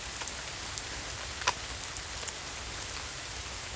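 Rain falling steadily outdoors during a morning walk, a faint even hiss of drops with a couple of brief sharper taps.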